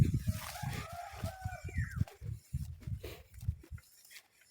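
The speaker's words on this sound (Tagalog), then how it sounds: "So ngayon ang uunahin natin yung aking isang inahin" A hen makes rhythmic low clucks, with a few brief higher calls from other fowl in the background. The sound is fairly close and faint.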